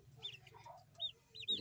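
A few short, soft clucks from chickens in a young batch of roosters and hens, quiet and spaced out across a brief moment.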